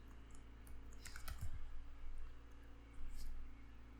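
Keys tapped on a computer keyboard while an axis title is entered, a short burst of quiet, close clicks with brief pauses between clusters.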